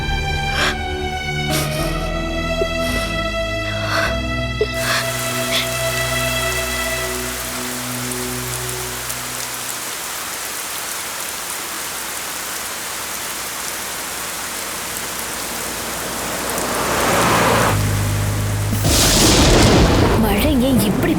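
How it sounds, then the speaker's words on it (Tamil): Heavy rain pours in a steady, dense hiss that swells louder toward the end, first under sustained music and then alone in a scene from a Tamil television serial. "மழை ஏன் இப்படி பெய்யுது?"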